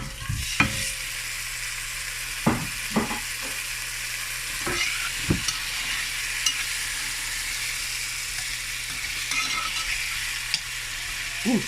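Potatoes frying in duck fat give a steady close sizzle throughout, broken by occasional scraping knocks as they are stirred in the pan.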